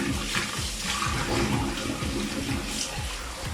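Sausage casings being swished in hot water and vinegar: steady sloshing and running water, fairly close, with a busy continuous wash and no talking.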